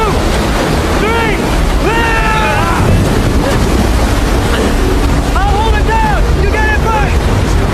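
Raging storm wind and crashing sea waves in a dramatic film rescue scene, a loud continuous roar of wind and surf with rising, bending tonal gusts layered over the churning water throughout.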